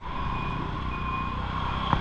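An arriving vehicle gives a steady engine rumble under a continuous tonal beep, heard close for a couple of seconds, with no talk.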